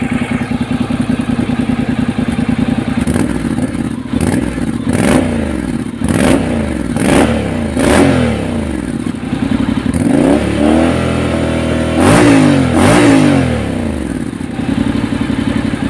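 A Honda X-ADV motorcycle fitted with an aftermarket muffler and silencer idles close by, then revs hard in a series of sharp, loud throttle blips, about eight in quick succession, before settling back to idle.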